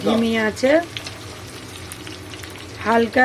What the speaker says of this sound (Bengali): ধিমি আছে আমি ভাজবো। বেশি জোর দিলে ওপর থেকে পুড়ে যাবে, ভেতর থেকে ভাজাটা হবে না